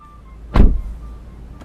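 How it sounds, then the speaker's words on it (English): The automatic seat belt presenter in a BMW 435i (F32) extends with a brief electric whir and soft thunk inside a quiet cabin, followed by a faint click. "The car hands me the seat belts"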